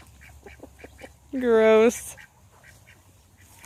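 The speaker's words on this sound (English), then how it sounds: "Are you getting duck sex in the background?" A duck on a farm lets out one loud, close, drawn-out quack lasting about half a second, with a person talking briefly nearby and softer chirping and farmyard background around it.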